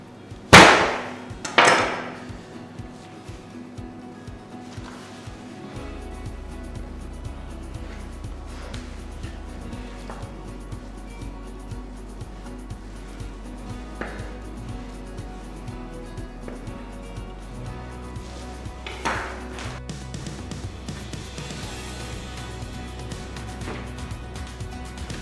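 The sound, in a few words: butcher cutting lamb loin into chops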